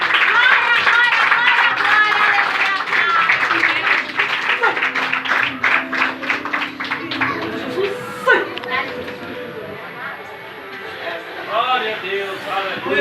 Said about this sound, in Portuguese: E as palmas são para Jesus